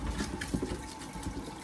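Vegetables getting a quick rinse under a running kitchen tap, a steady close splash and gush of water over the produce for a moment, with no voices.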